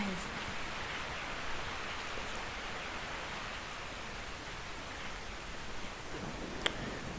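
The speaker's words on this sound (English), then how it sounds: "I woke up to the sound of falling rain" Steady falling rain in Resident Evil 3, a constant even hiss with no breaks, with a voice faintly present behind it.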